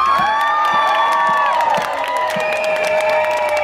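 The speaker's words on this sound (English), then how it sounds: "come on, give it up for my sisters, come on," Crowd at a drag stage show during an outdoor Pride event cheers, whoops and claps steadily, loud and close, with high shouts and whistles riding over continuous applause.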